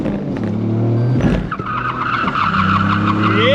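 A car at The Bend skids on the track, its engine roaring close while the tyres let out a rising squeal over a steady motor drone.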